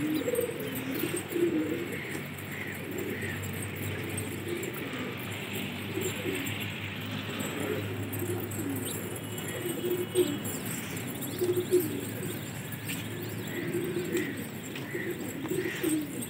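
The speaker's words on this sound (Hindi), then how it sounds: "ये कबूतर है" Soft, repeated cooing from green pigeons over a steady hum of outdoor background noise, with occasional faint chirps from other birds.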